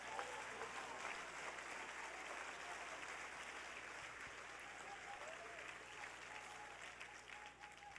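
Applause from a church congregation at a worship service, a steady, even clapping that holds for several seconds before easing slightly, heard at a distance, with no talking over it.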